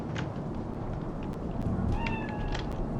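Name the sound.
cat meowing in Cyberpunk 2077, video game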